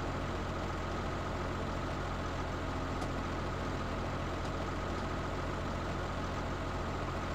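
A 280-horsepower Massey Ferguson tractor engine from Farming Simulator 17 idles in a steady, even low drone that holds throughout, with no speech.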